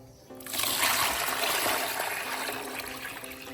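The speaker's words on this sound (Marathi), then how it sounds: "म्हणून करता सुरुवातीला चांगले गहू धुवून घ्यायचे." Wheat grains washed in a vessel of water at home, a close continuous sloshing and splashing that starts suddenly and carries on steadily, slowly easing off.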